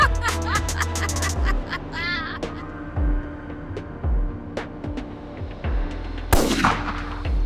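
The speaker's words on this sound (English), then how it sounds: "The gunshot echoed across the decks." A single loud, sharp gunshot cracks out near the end, following a stretch of dramatic music with deep, booming hits.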